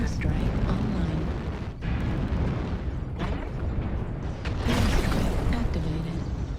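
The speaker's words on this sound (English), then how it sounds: "Airstrike activated." Airstrike explosions in a mech combat game, deep rumbling blasts and bursts swelling beneath a spoken voice, with the loudest boom arriving toward the end.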